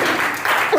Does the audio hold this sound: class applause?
yes